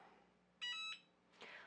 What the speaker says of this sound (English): it will beep when it is ready to be removed from the press.